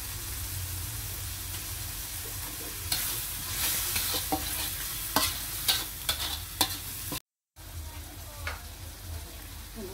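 Balado spice paste sizzles steadily in a pan while a spoon stirs it in repeated scraping strokes. The sound cuts out briefly before the frying resumes.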